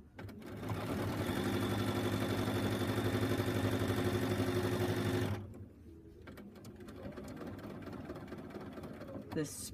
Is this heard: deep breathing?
no